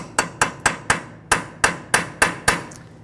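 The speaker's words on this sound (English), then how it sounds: "grab a punch, put it inside there, and you're going to tap that in" A punch is struck about ten times with a hammer to stake a CV axle nut on a Toyota RAV4, sharp metallic taps in a fairly even quick rhythm, close and clear.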